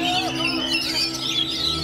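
An oriental magpie-robin (kacer) sings a continuous string of high, bright whistles and trills, clear and close, while a person talks over it.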